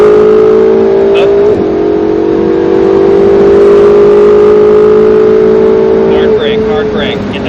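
A race car on a track accelerates hard with a loud, sustained engine drone that rises in pitch, drops once in an upshift and climbs again, while a voice speaks intermittently over it.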